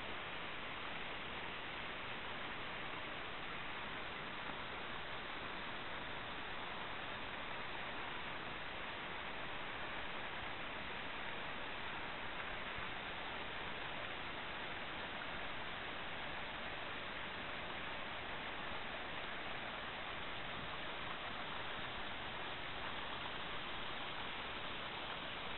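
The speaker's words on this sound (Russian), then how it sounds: "Водопад вытекает прямо из скалы." A waterfall pouring straight out of rock in the Bzyb river gorge gives a steady, unbroken broadband rush of falling water that holds constant throughout, with no voices.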